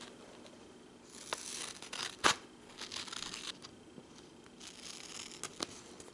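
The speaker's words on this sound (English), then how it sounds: "Then cut out your drawing." Scissors cutting out a paper drawing for a Starbucks-drink paper squishy: quiet, close snipping and rustling of paper over several seconds, with one sharper crisp cut standing out partway through.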